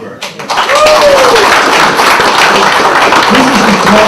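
Audience applause at an awards banquet, a full, steady wash of clapping that rises quickly and holds for a few seconds, with faint voices underneath.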